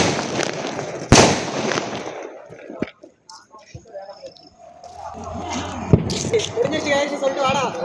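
Several sharp firework bangs and crackles burst out, one loud blast near the start and another later, with people talking and scattered pops in between.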